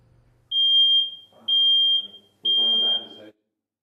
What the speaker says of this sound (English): here's another look at smoke detectors, false alarm